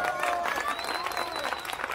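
Audience applause for a live performance by a Roma music ensemble, steady and dense clapping throughout, fairly close and moderately loud with some crowd noise mixed in.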